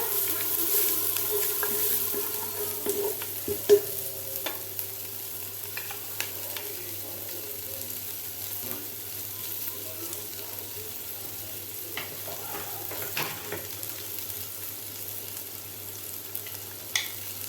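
Onion frying lightly in a pan while chicken tadka is prepared, a steady low sizzle running throughout with occasional soft stirring taps and scrapes, fairly quiet and without talk.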